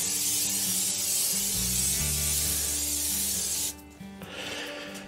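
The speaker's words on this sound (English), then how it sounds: "I'm gonna spray them too." An aerosol can sprays a coating onto metal sausage hangers for a new smoker's burn-in, making a steady close hiss that runs for several seconds, then stops and is followed by faint rustling.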